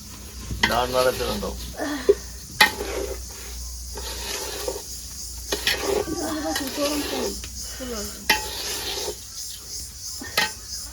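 Rice dry-roasting in a pan gives a soft, shifting hiss and rustle with intermittent scraping stirs, close by, while people talk over it throughout.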